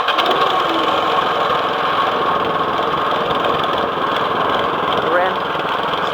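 A small MTD 179cc lawn mower engine runs loud and close with a steady, buzzing drone and no pauses.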